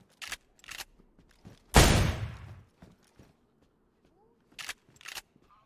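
Video game gunfire aimed at zombies: one loud burst of shots near the middle, with shorter, quieter pops scattered before and after.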